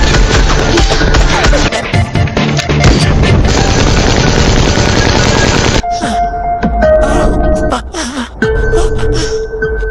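Dense bursts of rapid gunfire rattle loudly in a shootout between police and drug syndicate members, then give way to scattered single shots and sharp cracks with brief pauses between them.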